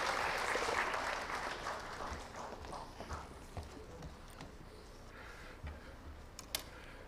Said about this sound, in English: with that, a great round of applause,